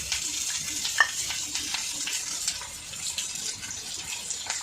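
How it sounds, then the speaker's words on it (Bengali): Potatoes and onions frying together in a pan, a steady soft sizzle and crackle with occasional stirring scrapes and a faint click, moderately quiet and close. "আলুর সাথে পেঁয়াজটা ভাজা হয়ে যাবে"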